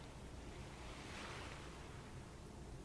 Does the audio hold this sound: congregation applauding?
no